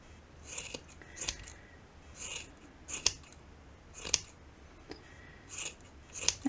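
Scissors snip repeatedly while trimming the long strands of a yarn pom-pom ornament, crisp close cuts arriving in an uneven rhythm of roughly one or two per second with no talk.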